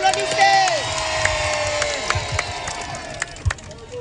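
Crowd cheering and whooping at an outdoor campaign rally in Guinea, a loud sustained roar with shouts rising over it, scattered sharp bursts near the end, and a voice calling out early on.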